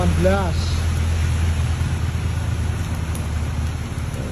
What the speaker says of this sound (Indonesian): ini kondisi hujan